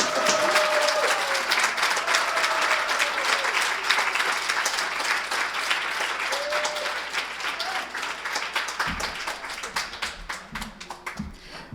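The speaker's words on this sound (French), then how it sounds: "et puis on t'applaudit, man" Audience applause at an awards ceremony, steady dense clapping sustained for about twelve seconds and gradually thinning toward the end, with faint voices and occasional whistles mixed in.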